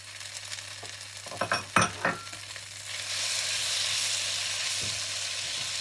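Bean sprouts and choy sum are tossed in a hot wok for char kway teow, with a few clattering stirs followed by a steady, close sizzle.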